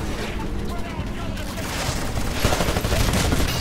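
An automated turret in the video game Titanfall fires steady bursts of gunfire, with a dense clatter of shots and explosions that grows louder toward the end amid busy battle noise.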